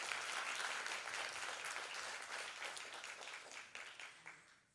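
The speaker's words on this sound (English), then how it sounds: "Let's give them a round of applause." An audience at a live dance performance applauds, a dense crackle of many hands clapping that holds steady and then thins and tapers off near the end, fairly quiet and without talk.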